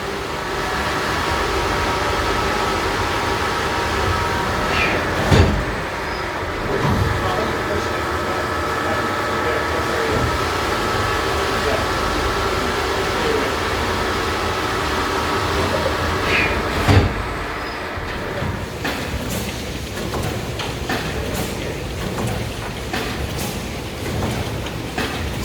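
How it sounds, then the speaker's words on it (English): A bull steam pumping engine runs at the London Museum of Water & Steam, giving a steady mechanical hum and rumble with a couple of sharp clanks standing out against the continuous machinery noise. "Pumping the water here, the bull engine."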